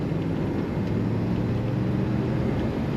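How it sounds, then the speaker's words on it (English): A black 1980 Pontiac Turbo Trans Am with T-tops idles smoothly, a steady, even low rumble that holds constant and close with no voices. "very smooth running Pontiac"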